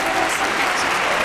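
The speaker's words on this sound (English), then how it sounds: "the round of applause is loud as shit today" A round of applause on a radio show broadcast: a brief, loud, continuous wash of clapping from a crowd, with no gaps, lasting just over a second.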